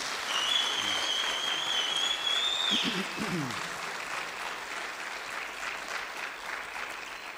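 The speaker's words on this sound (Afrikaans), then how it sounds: "Kom ons gee vir haar groot hande klap." A church congregation gives a sustained round of hand clapping, steady and fairly close. A thin high whistling tone sits over the first few seconds.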